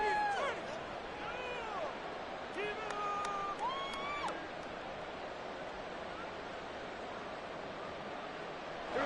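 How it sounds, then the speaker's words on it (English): A football stadium crowd roars during a late goal-line stand with under two minutes left. A steady, loud wash of cheering fills the clip, and raised voices and whistle-like calls rise over it early on. "This crowd doing all they can."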